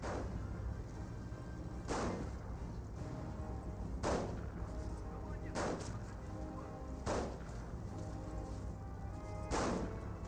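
Artillery barrage in Company of Heroes 1: deep booming shell impacts land roughly every two seconds, each a sharp blast with a rumbling tail, over a steady low background of battle noise.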